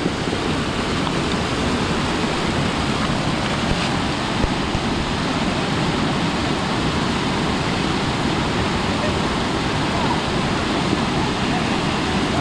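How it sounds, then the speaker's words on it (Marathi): A fast, flooded river in heavy Konkan monsoon rain gives a loud, steady roar of rushing water. The dense wash holds constant for the whole stretch, with no pauses or voices. "आता पूर्ण पाण्याचा वेगच वाढला आहे,"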